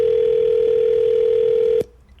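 A telephone dial tone hums loud and unbroken right after a call is hung up, then cuts off abruptly with a click and leaves near silence.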